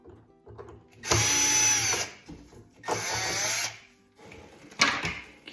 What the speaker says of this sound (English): we want to get out a Phillips head screw here